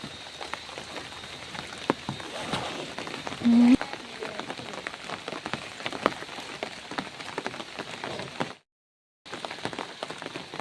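Steady rain pours onto leaves and surfaces in the Maredumilli forest, a dense continuous patter with a brief dropout near the end.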